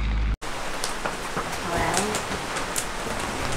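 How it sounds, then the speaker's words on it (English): Heavy rain pours steadily onto a sailboat moored at Huahine in French Polynesia during the rainy season, a dense, continuous hiss with scattered louder drop impacts close by. "Look at this rain."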